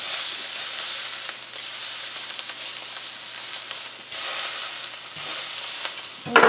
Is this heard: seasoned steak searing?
yes